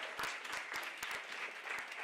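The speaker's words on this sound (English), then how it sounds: "Give yourselves a round of applause." Audience applause at an arts and culture event, a faint, steady patter of scattered claps with a few sharper individual hand claps standing out.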